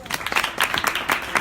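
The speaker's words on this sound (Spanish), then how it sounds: "Muchas gracias, un aplauso." Audience applause at a talk on philosophy and sport, a dense patter of many hands clapping steadily for about a second and a half, fairly close and moderately loud with no speech over it.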